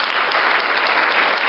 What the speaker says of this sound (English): Ang ganda ng clap ni Sir Ron.